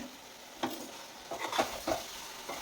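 Masala vadas being stirred into tamarind pulusu in a pan: a few soft scraping, wet sloshing strokes spaced irregularly over a low background hiss.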